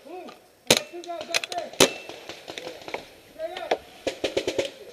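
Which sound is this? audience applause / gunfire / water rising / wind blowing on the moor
gunfire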